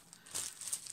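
A small plastic packet holding a scale model figure's sprue is torn open, giving a brief, quiet crinkle of thin plastic that swells for about half a second and fades, with no talking.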